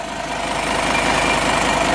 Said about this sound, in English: It does seem to sound like it's got a bit of a boost leak around here, possibly. It's like a bit of a hissing.